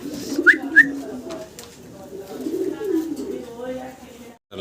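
A pair of fancy red pigeons coo in low, rolling bursts, with two short clear whistle-like chirps early on, heard close in a quiet loft.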